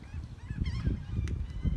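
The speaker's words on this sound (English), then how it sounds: "a flock of like 20 or 30 wild parrots here" A flock of about 20 or 30 wild parrots near a Florida park playground gives harsh, nasal squawks and honking calls, several overlapping in quick succession at moderate distance.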